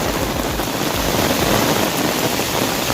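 Heavy rain pours down steadily in the Gir forest area, a dense, continuous hiss of close, loud rainfall with no pauses and no voices over it.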